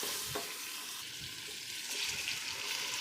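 Turmeric, salt and red chilli frying with meat in a pan for chicken palak gosht, a steady, fairly quiet sizzle with a few soft stirring scrapes, heard alone.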